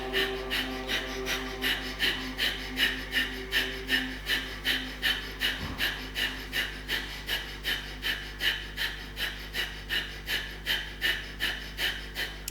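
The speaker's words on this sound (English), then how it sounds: "Keep breathing briskly." Brisk rhythmic yoga breathing, fast even puffs of breath repeating roughly twice per second for the whole stretch, close and steady over a faint low hum.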